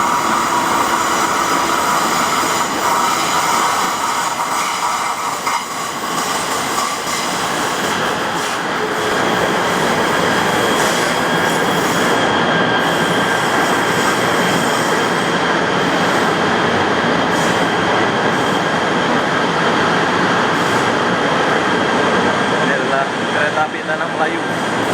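Steady rumble and hum of a KTM commuter train at a station in Kuala Lumpur, Malaysia, continuous and loud, with faint squealing and background voices mixed in.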